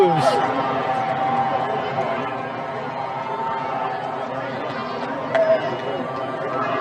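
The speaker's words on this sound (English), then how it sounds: "It's amazing to hear the crowd's roar echo across the campus." Crowd roaring and cheering across a college campus during a solar eclipse, a broad sustained wash of distant voices echoing steadily throughout, with a brief louder swell near the end.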